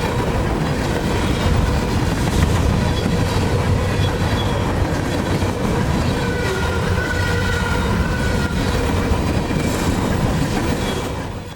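A freight train rolls past along Lake Erie at limited speed, a loud, continuous rumble and clatter of wheels on rails with occasional faint squeals, sustained close by for the whole stretch.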